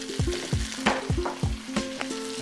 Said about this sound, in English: As the smaller pieces get cooked with the color you're after